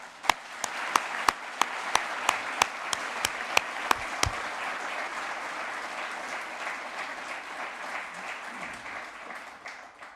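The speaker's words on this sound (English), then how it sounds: "Please give yourselves a huge round of applause." Graduates at a master's and PhD graduation ceremony applaud themselves: a broad wash of clapping from a large hall, with a few sharp nearby claps at first, sustained and slowly softening.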